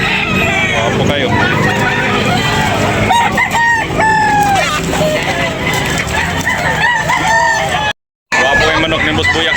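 Roosters and chickens at a poultry sale crow repeatedly in rising and falling calls, with several overlapping crows close by over steady background chatter and bustle.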